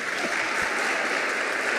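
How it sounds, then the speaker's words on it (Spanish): Audience applause fills the room as a dense, steady wash of many hands clapping at once, sustained and even for the whole stretch with no voices over it. "Así que merece un aplauso."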